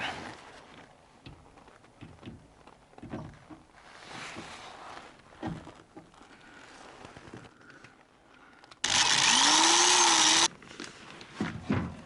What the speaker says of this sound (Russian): Сейчас сначала просверлим дырочки.